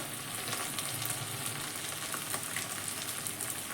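Ground chilli, cumin and coriander powders frying in a pan for egg curry make a dense, continuous sizzle, close and steady, with faint scraping stirs throughout and no speech.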